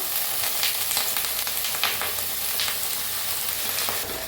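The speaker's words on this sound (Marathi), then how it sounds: "त्यातच वांगी बी परतून घेऊया आपण" Eggplant frying in oil in a pan gives a steady, close hiss and crackle, with small spatters and faint scrapes repeating throughout.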